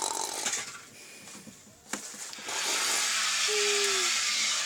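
Loud, harsh snoring with a rough, chainsaw-like rasp that swells and holds steady through the second half, with softer, broken breathing noise before it.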